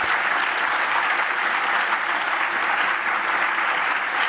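Audience applause at a Kavli Prize lecture on gravitational waves, a dense, even roar of many hands clapping that stays loud and steady throughout.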